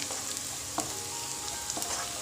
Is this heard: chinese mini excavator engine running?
no